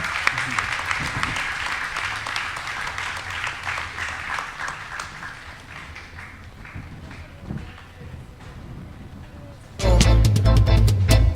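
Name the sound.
audience applause for panel speakers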